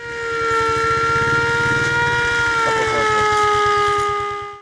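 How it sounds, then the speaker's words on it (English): A motorcycle ambulance siren in Murang'a County wails loudly and steadily at close range, with a rapid engine rattle beneath it and no talk. "their labor cries and those of other patients have been replaced by sirens of an innovative motorcycle ambulance"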